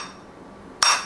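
A hammer strikes a custom metal cymbal once, a sharp bright clang with a shimmering ring after a quiet, faintly noisy lead-in.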